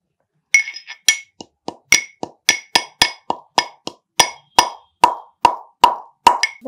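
Dry spices pounded coarsely in a mortar, about a dozen sharp, evenly spaced knocks and clinks, close and loud, with brief silence between each strike.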